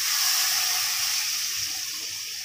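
Gram flour batter is poured slowly into a pot, giving a steady, close, hissing liquid pour that stays fairly even and tapers slightly toward the end, with no talking.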